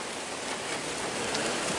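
Steady rain falling outdoors around a tilapia breeding tank, a dense, even hiss of drops on surfaces holding at constant loudness throughout with no voices.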